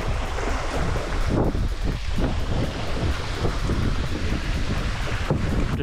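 A canoe paddled upstream against a strong current on choppy river water in the Verdon Gorge, southern France, with steady rushing water and heavy wind buffeting the microphone throughout, and no voices.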